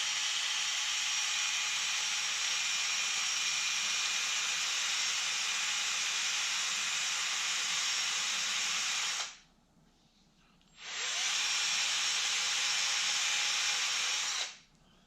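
A drill bores a hole in a wooden dowel fishing lure body, a loud, steady high whir running for about nine seconds, a brief stop, then a second run of about four seconds.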